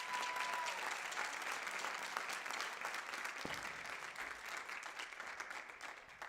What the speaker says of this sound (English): Let's give them a round of applause because they made a lot of this happen.